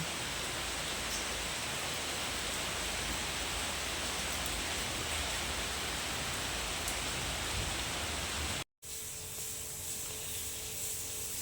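Heavy rain pours down in a constant, dense hiss that stops briefly near the end before continuing more softly.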